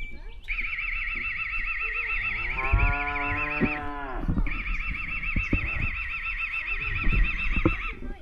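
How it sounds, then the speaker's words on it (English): Cows in a field near a river rapids hiking trail call out with a loud, drawn-out moo, a second animal lowing in between, amid outdoor background noise. "there's some cows here."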